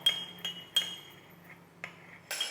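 A spoon clinks against a glass while stirring sweetened condensed milk and evaporated milk for hot milk tea, six sharp bright taps at an uneven rhythm, close and alone.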